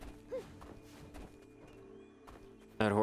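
Horse hooves in the Black Desert Online video game, with a whinny and clip-clop steps over game ambience and a sudden loud crash near the end.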